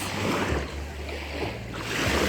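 Sea waves on a calm day, a soft continuous wash of surf with gentle swells, close and moderately quiet, with no talk.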